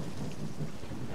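Brief stretch of rain and distant thunder in the video game Lost Alpha, a constant rain hiss over a soft low rumble, steady and even throughout.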